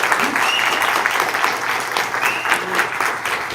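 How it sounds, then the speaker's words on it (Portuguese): Live studio audience applause for a guest on a Portuguese-language live show, dense sustained clapping at steady loudness with some cheering, continuous for several seconds. "queria pedir mais uma salva de palmas aqui para ele, por favor"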